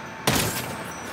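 A single powerful heavy sniper rifle shot strikes an armored car in GTA V, an abrupt loud crack followed by a rumbling, fading tail.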